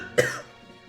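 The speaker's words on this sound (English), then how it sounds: "sorry for the coughing" A single short cough, close and fairly loud, followed by a brief fading throat rasp.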